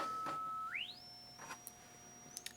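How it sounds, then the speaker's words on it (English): A function generator set to a 5 kHz sine wave drives an audio amplifier and speaker. A steady pure tone starts lower, glides smoothly upward, then holds at a constant pitch. Faint clicks are heard alongside it. "function generator on sine wave. It's 5 kilohertz."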